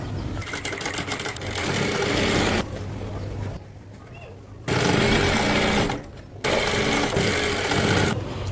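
Sewing machine running along the edge of a cotton kurti collar, loud close mechanical whirring in long runs broken by short pauses where the stitching stops and starts again.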